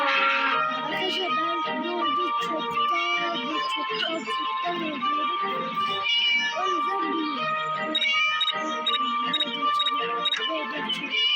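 Cat meowing in a video game, repeated plaintive meows in quick succession over game music, loud and close throughout.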